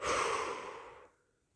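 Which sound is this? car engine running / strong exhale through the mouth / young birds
strong exhale through the mouth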